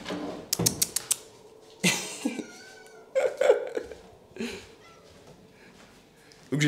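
Two hungry house cats meow in short, separate calls, some close and loud, while they wait for breakfast indoors; a faint creak and handling sounds fill the quieter gaps.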